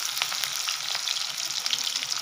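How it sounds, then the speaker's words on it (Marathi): Three chopped onions fry in a pan for zunka, a dense, steady, close sizzle with faint stirring ticks and no voices. "आता टाकायचा कांदा, 3 कांदे घेतले मी इथं"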